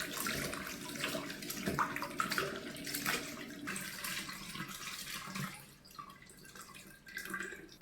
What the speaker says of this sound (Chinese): 拿回来用清水再清洗清洗